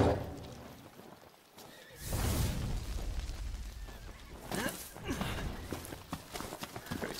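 Horses neigh and whinny amid loud, noisy Final Fantasy XV game action, with hoof clatter and occasional bursts and pops in the background.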